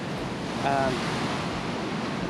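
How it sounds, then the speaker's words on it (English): Rough sea surf off the coast of the Eyre Peninsula, a broad wash of crashing waves and wind noise, steady and fairly faint, with a brief faint chirp. "the sea is so rough as well"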